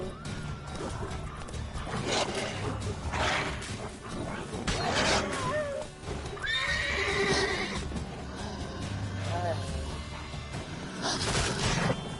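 A horse in The Witcher 3 neighs and whinnies repeatedly over clip-clopping hooves, loud and close, with bursts of game noise around it and a person talking briefly.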